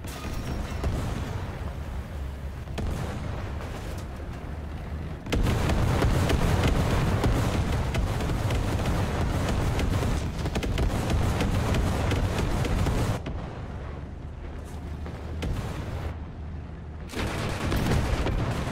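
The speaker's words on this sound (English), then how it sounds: "Let's get some artillery on him." Dense, continuous barrage of artillery and gunfire in a vehicle combat video game featuring autocannons, loud and sustained throughout with rumbling blasts, briefly easing in the middle before surging again.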